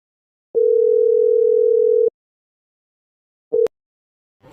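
Telephone dial tone as a call is placed at home, a steady tone held for about a second and a half, then a short beep and a click, loud and alone in silence.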